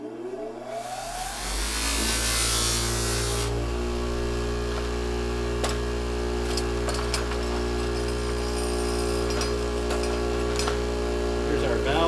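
A cotton buffing wheel spins up and runs steadily with white polishing compound against metal parts of a 1950s Sears J. C. Higgins stove, a continuous motor hum and whir with faint occasional contact scrapes.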